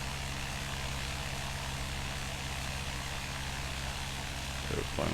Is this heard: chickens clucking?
no